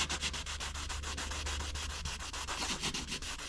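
Steady rhythmic scratching of sandpaper rubbed back and forth on a car's clear coat, close and continuous with quick regular strokes.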